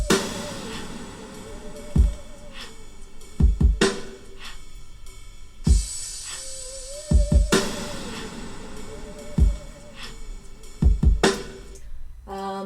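A mix plays back in which sparse, heavy drum hits land in clusters under a wavering, processed vocal-effects layer, with a steady sustained bed throughout, close and fairly loud.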